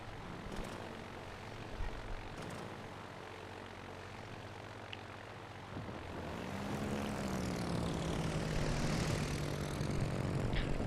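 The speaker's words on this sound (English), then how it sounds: "Enemy force detected. Fighter airborne." Propeller fighter aircraft droning in the naval video game World of Warships Legends; a steady engine hum builds and rises in pitch as the plane passes close, with no talk.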